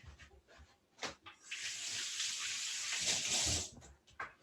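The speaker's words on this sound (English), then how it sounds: "I'm just going to rinse my hands here" Water runs steadily from a kitchen tap as hands are rinsed beneath it, a close, broad splashing rush that swells and holds for a few seconds before cutting off.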